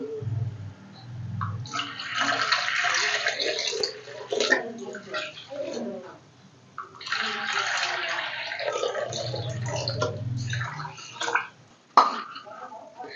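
Water poured from a measuring cup into a pan with sugar for making syrup for a chana dal halwa, two bursts of splashing pouring with pauses between, close by, alongside faint talk.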